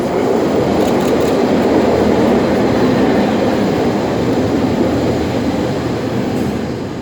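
A train running along the Dawlish sea wall in Devon, a loud sustained rumble and wheel clatter passing close by, fading slightly toward the end.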